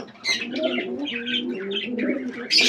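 Domestic pigeons in a loft give repeated low, throaty coos that roll on steadily for nearly three seconds, with brief higher chirps and a burst of wing noise near the end.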